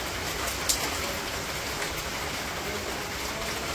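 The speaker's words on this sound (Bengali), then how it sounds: "এই যে এইদিকে দেখেন বৃষ্টি শুরু হয়ে গেছে" Steady rain falls over a village, giving a constant, even hiss of drops on surfaces with a single brief tap partway through.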